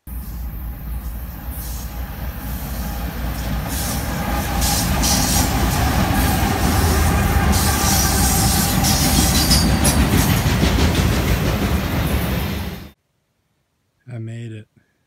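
A train passes close by on tracks beside a hiking trail, making a loud, continuous rumble with clattering wheels for about thirteen seconds. It cuts off abruptly and a voice follows briefly.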